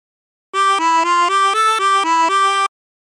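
Harmonica playing a phrase of Turkey in the Straw, a quick run of eight or so even blown and drawn notes stepping up and down, clear and close, alone with silence around it.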